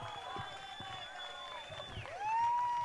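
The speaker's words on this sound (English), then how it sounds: "the crowd going wild" Crowd at a mixed doubles pickleball match erupting into loud cheers and whoops over steady background commentary, swelling sharply near the end.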